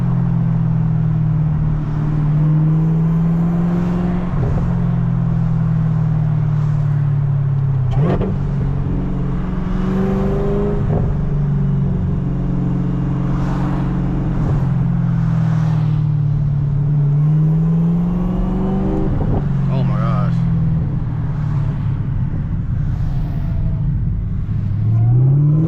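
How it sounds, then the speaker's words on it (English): A Chevrolet Camaro ZL1 with a six-speed manual drives through a small town, its loud close engine droning and rising and falling through repeated revs and gear changes, heard from inside the car without talk. "POV driving the fucking stick shift"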